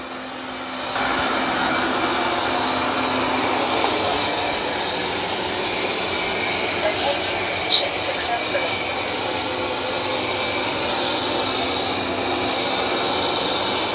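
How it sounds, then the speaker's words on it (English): A Tikom L8000 robot vacuum cleans a kitchen of hardwood floors and carpet, giving off a steady, whirring broadband hum that runs continuously at moderate loudness with faint clicks, no voices. "we're gonna have it start cleaning this kitchen"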